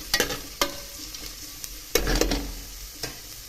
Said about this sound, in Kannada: ಈರುಳ್ಳಿ ಫ್ರೈ ಆಗಬೇಕು